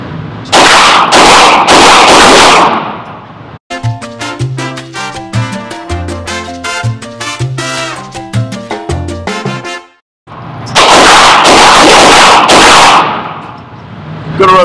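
A CZ 75 P01 Omega pistol is fired at 15 yards on an outdoor range, making loud, dense bursts of shots that open the stretch and return near the end, with a quieter musical passage between them.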